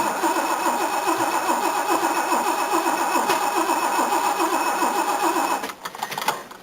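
An old car's starter, with worn bearings, cranks the engine in a steady rhythmic churn for about five and a half seconds without it catching, then cuts off into quieter clunks.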